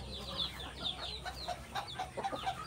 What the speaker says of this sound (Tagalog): Saka ito na yung mga Orpington natin.